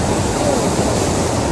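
A waterfall at a tourist spot in Gangtok, Sikkim, gives a steady, dense rush of falling water, close and unbroken for a short moment.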